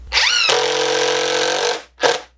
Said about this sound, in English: Now we will have to add screws in from the outside to secure them in place.